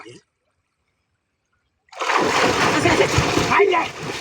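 Someone plunging into water with a loud, close splash and churning slosh after a short silence, voices shouting over the noisy water.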